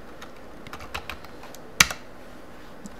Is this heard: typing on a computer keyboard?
yes